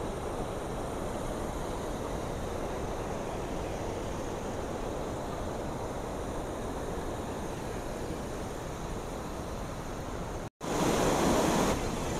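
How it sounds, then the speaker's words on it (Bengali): Strong rushing water at Gundichaghagi waterfall during the monsoon, a loud dense roar that holds steady, breaks off in a brief dropout, then returns slightly louder. "শুধু দেখুন জলের কি স্রোত এখানে।"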